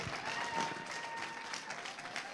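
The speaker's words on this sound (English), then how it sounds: "Round of applause for Dr. Deborah and Scott." Applause at a Dancing with the Docs charity event for the performers Dr. Deborah and Scott, a brief burst of crowd clapping, somewhat distant and soft.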